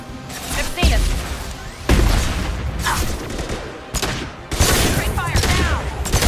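Dense bursts of gunfire from Mass Effect 2 on Insanity difficulty: loud, closely repeated volleys and heavy impact thuds that come in several clusters with short lulls between them.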